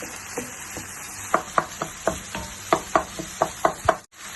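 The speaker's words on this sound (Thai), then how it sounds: "เราก็จะผัดมะเขือเทศให้ เละๆหน่อยเนาะ ใส่กระเทียมที่เราโขกไว้อะจ้ะผัดให้หอมเลย" Tomatoes and pounded garlic are stir-fried in a pan for chicken spaghetti, with about a dozen rhythmic spatula knocks against the pan over a soft, steady sizzle, close and fairly loud.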